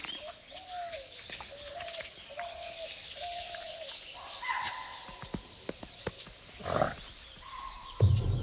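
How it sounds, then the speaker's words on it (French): A sudden animal alarm call rings out in an Indian jungle as a Bengal tiger approaches, with repeated bird-like calls at moderate distance over steady forest ambience, followed by louder sharp cries and a low rumble near the end. "Soudain, un cri d'alerte les perturbe."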